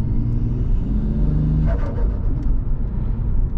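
A Toyota Crown JZS171 fitted with a front mount intercooler kit, heard from inside as the engine builds a deep, loud rumbling rev that swells then eases, with a steady low drone throughout.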